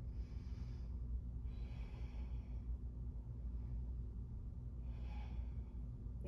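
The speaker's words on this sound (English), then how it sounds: "Nice full deep ujjayi." Deep ujjayi breaths during a yoga practice come as slow, soft, airy rushes, three separate breaths over a quiet low background hum.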